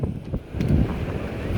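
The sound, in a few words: wind on the beach at Port Aransas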